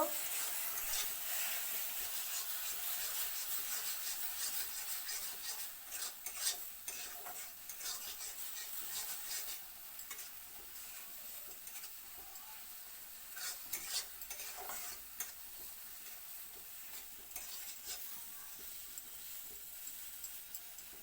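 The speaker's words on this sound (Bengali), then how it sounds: "মশলাটা ভালো করে কষিয়ে নিতে হইব" Spice paste with turmeric and salt is stirred and sautéed in a pan for a Bengali mustard jute-leaf dish. A steady sizzle runs throughout, with repeated close scraping stirs.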